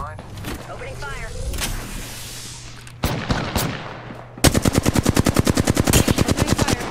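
Rapid automatic gunfire from a sci-fi shooter video game, with scattered single shots and rising effects before a loud, steady burst of evenly spaced rounds in the final seconds.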